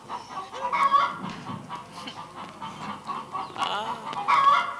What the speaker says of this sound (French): C'était des poules, effectivement.